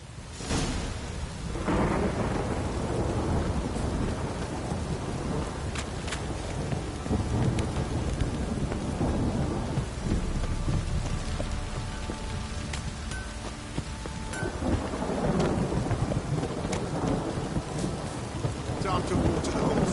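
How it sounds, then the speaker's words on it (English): Heavy downpour with rolling thunder in a video game: dense, continuous rain hiss fills the scene while deep thunder rumbles build and swell across the span, loud and enveloping with no voices. "This downpour's a bastard,"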